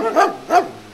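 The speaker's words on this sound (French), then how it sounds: "Y a des chiens là, je suis pas super rassuré." Two loud, close barks from dogs at a farm in Jericó, Colombia, evenly spaced within a second, with little else around them.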